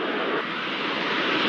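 A jet airplane taking off in an air traffic control video game, a steady broadband engine roar that holds loud and even throughout.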